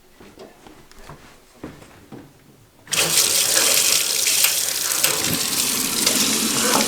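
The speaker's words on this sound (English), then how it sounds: "Water." Water gushes loudly from a tap in an above-ground home water system, starting abruptly after a few seconds of quiet handling noises and then running steady and close.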